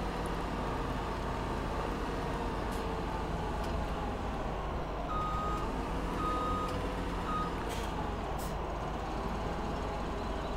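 A tractor drives across a field in the Farming Simulator 17 video game, producing a loud, steady low engine drone throughout, with faint, brief reversing-style beeps partway through.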